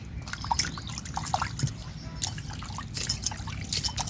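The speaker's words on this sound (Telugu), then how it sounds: "ఇక రోలు కడుక్కుందాం" Water dripping and trickling while a stone grinding mortar is washed, with scattered splashes and light scraping close by over a steady low background.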